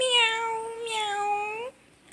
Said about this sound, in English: Cat, at, cat, meow, meow.